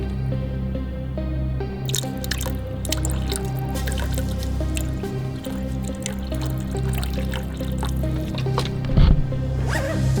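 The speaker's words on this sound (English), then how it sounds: "we're just gonna overfill it and make sure that it's completely full, there are no air bubbles" Coolant being poured to overfill the reservoir of a Ferrari V12 engine, a continuous close gurgling and dripping of liquid with small squishy splashes and a low hum behind it.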